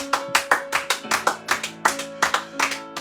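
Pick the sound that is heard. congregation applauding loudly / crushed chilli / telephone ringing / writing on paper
congregation applauding loudly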